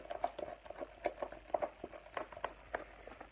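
Thick slime being stirred in a container, giving soft, wet, irregular squelching and clicking pops in a steady stirring rhythm, close and fairly quiet with no talking.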